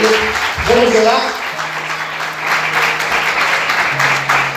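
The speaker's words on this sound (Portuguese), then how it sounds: "Consegue aplaudir Jesus com bastante alegria?" A church congregation applauds during a pastor's evening service, a thick wash of clapping that carries on for several seconds. Brief voices and a sustained low tone, likely from an organ or keyboard, mix in.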